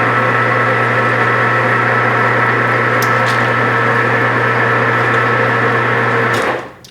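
A metal lathe cutting a coarse thread with cutting oil at fast spindle speed gives a loud, steady mechanical drone with a few faint clicks. It winds down abruptly as it stops near the end.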